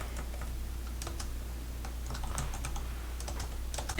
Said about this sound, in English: My keyboard is very sticky.